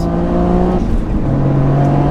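A tuned 600 hp Toyota GR Yaris rally hatchback screams under hard acceleration, its pitch jumping at a gear change before climbing again, loud and close.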